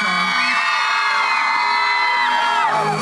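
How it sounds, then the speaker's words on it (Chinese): A school audience of teenagers screams and cheers loudly and continuously at a concert at Wenhua High School, a dense, sustained wall of high-pitched shrieks from a large crowd. "我们再来一次尖叫声"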